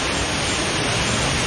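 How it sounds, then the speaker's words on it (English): Roaring waterfall inside a cave, a loud, steady broadband rush of falling water that fills the space without a break, close and constant. "we made it to the second waterfall"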